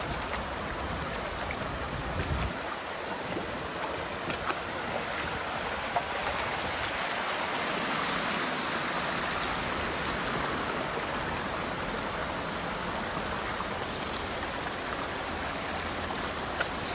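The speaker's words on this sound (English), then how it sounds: "Track's a bit of a creek" Water running steadily down a flooded walking track in a national park gorge, a constant broad rushing and trickling flow, close and uninterrupted with no voices.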